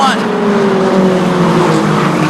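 Short track race cars roar past on an oval with a high, sliding engine whine and tire noise, loud and close, under an excited race commentator's voice.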